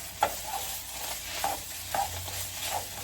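Tomato paste stirred in a pot for lasagna soup, a spoon scraping and clicking against the pot every half second or so over a steady close sizzle of frying.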